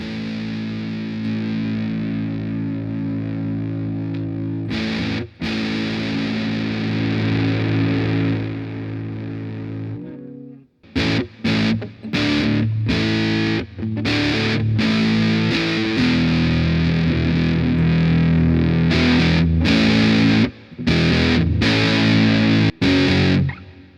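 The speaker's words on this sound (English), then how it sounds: "Next is the ultimate drive." Electric guitar played through a TEMU Ultimate Drive distortion pedal: loud, saturated sustained chords ring for about ten seconds, then a run of choppy, rhythmic stabs with sharp cutoffs, with no talking.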